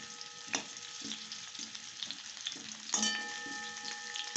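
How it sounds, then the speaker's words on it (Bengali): Small winter potatoes frying to a deep brown in a pan for aloo dum, a steady close sizzle with scattered spatula scrapes and a sharper burst of crackle partway through. "আলুটাকে লাল লাল করে ভেজে"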